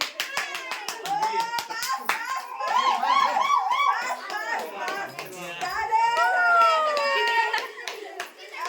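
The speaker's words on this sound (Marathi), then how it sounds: "ओ ग बाबू टाळी वाजव टाळी" A four-month-old baby's hands clapping in quick bursts of soft claps, close by, amid lively adult voices and chatter urging and cheering at a home naming celebration.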